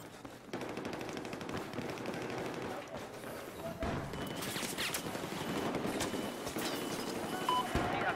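Battlefield 4 gunfire crackles in quick automatic bursts, fairly faint and set back in the mix, with a few sharper nearby shots toward the end.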